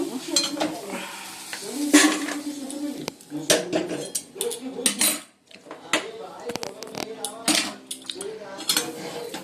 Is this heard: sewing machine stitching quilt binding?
no